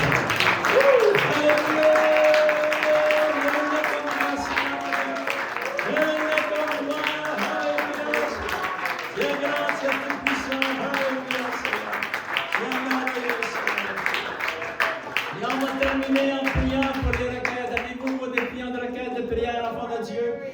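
Congregation at a church service clapping along in rhythm for about twenty seconds, mixed with singing or sustained vocal tones and crowd noise throughout.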